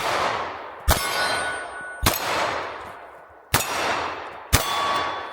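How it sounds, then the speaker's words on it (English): Four sharp pistol shots from an S&W CSX E-Series micro-compact hammer-fired pistol fired one-handed, each followed by a ringing metallic clang of steel targets, spaced about a second apart and fading away after each hit. "let's do some one-handed shooting"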